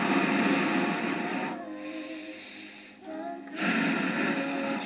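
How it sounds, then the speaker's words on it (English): Steady, loud breath exhaled during a Pilates floor workout, broad hissing airflow that breaks off briefly midway and then resumes, heard close with no talking. "Again, breathing out."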